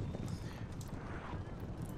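Cavalry horses gallop in the video game Napoleon Total War, a continuous rumbling patter of many hooves at moderate distance, fairly soft and steady, mixed with battlefield noise.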